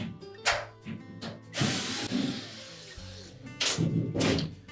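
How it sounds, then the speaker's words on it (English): Two retaining screws come out of the back panel of a Whirlpool washer with a powered driver, giving a few short whirring bursts with clicks and pauses between them, up close. "our next step is to remove the 2 retaining screws"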